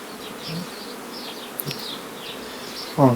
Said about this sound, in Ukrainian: Бжілки літають на поле, зараз глянемо.